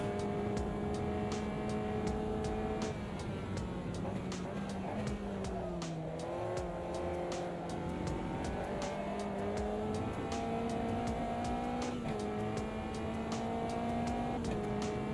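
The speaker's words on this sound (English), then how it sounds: "somebody warming up the tyres" Race cars in the racing game Automobilista 2 rev and run as tyres are warmed up, engines droning and shifting pitch over a continuous roar, with a faint squeal and ticking clicks layered throughout.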